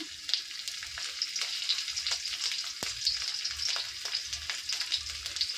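Chopped garlic sizzles in hot oil in a large kadai, a steady close frying hiss broken by occasional stirring clinks and scrapes, with no talk.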